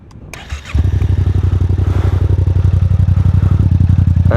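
Yamaha MT-07 motorcycle with an Akrapovic exhaust starting up, a quick crank then a loud, close, steady idle with a deep, rapid, even thumping pulse that holds to the end.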